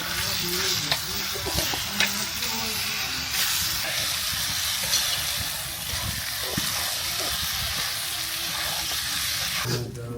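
Moong dal goes into vegetables frying in a pot over a village clay stove for Bengali khichdi, setting off a loud, continuous sizzle and hiss with scraping stirs and occasional knocks throughout.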